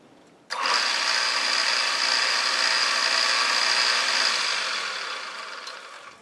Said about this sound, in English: Just put a touch of chamfer on there, break that edge.